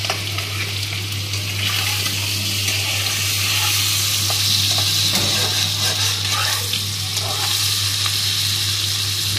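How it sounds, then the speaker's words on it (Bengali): Eggs fry in hot oil for a Bengali egg curry, a loud continuous sizzle with scattered spits and pops, close by and steady throughout, with a low constant hum beneath. "প্রথমে ডিমগুলো ভেজে নিতে হবে"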